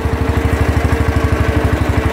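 A small tractor engine, a 140 model, runs steadily nearby with a loud, even thumping beat and no talk over it.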